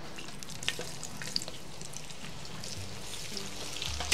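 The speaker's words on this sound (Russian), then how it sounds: "Отправляем картошку на сковороду." Potatoes fry in oil in a sadj pan, a soft, even crackling sizzle with a few faint taps from a utensil, steady and fairly quiet throughout with no talking.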